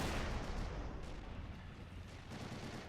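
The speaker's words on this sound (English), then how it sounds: "A few M1 Garands opening up here on the wall." WWII video game battle with M1 Garand rifles firing from a wall, heard as a dense, continuous wash of distant gunfire and rumbling explosions, muffled and fairly faint throughout.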